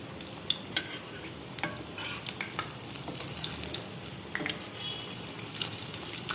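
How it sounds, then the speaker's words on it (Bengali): Pitha cakes fry in a pan of hot oil, a soft continuous sizzle and crackle close by with scattered pops throughout, no talking. "তারপর আমি তেলের মধ্যে দিব, আপনারা দেখেন। আর আমার তেলটা গরম হোক।"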